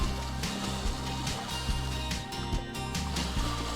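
A soldier wading waist-deep in water in the Squad video game makes steady sloshing and splashing while turning, the watery swish continuous and close, with periodic surges.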